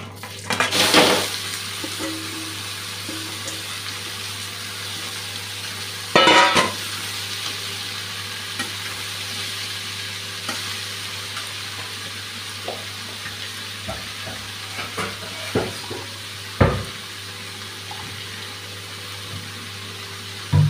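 Bottle gourd and catfish coated with salt and turmeric frying in hot oil in a pan give a constant close sizzle, broken by a few sharp clanks and scrapes of a spatula stirring, with no voices.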